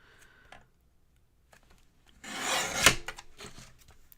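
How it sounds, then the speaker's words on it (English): Scissors or a blade cutting the decorative trim off a paper Christmas card, a few faint snips and then a louder rasping cut up close, followed by light paper handling. "So let me cut this trim off."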